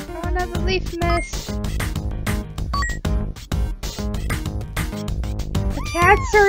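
Cats meow in the video game Wholesome Cats, several short mews over busy, dense game music and effects, fairly loud and close.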